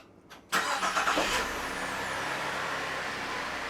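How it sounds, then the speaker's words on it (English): A Holden VZ Commodore, freshly fitted with a repaired starter motor, cranks briefly and fires, then settles into a steady, close idle. "let's reconnect the battery and see if it starts"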